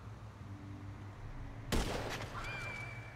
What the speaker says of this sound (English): And now I'm taking a shot.